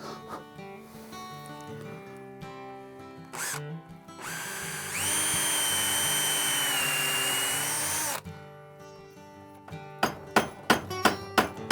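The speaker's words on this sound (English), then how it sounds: "So I'll do this, I'll drill out around it somewhat." A power drill bores out the wooden wedge in the eye of a store-bought axe handle, a loud, close whine held for several seconds after a brief burst, followed by a run of sharp, evenly spaced knocks.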